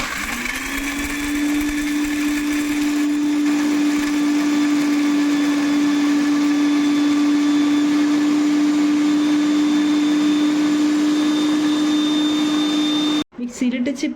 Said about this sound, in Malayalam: മിക്സിയിലിട്ട് ചിപ്സ് നല്ലോണം പൊടിച്ചെടുത്തിട്ടുണ്ട്